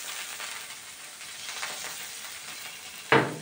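Börek sizzles steadily in a pan of butter and oil, a close, even frying hiss with a sudden brief louder spatter near the end.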